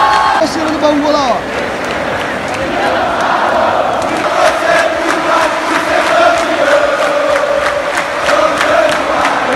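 Bangu football supporters at Maracanã stadium chant and cheer in a sustained, loud crowd roar with clapping, while someone nearby speaks over the noise.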